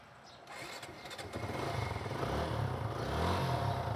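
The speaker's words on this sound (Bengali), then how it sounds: "আশা করি ইতিমধ্যে আমাদের বাইকের সাউন্ডকে আপনি সাউন্ড শুনতে পেরেছেন।" A Suzuki Gixxer motorcycle engine starts and settles into a steady running rumble that grows louder after the first half second, with no talking.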